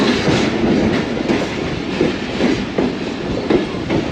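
The 33UP Pak Business Express, a Karachi to Lahore passenger train, rolls into Khanpur Junction station with loud, close rhythmic clickety-clack of wheels over rail joints and a steady rumble throughout.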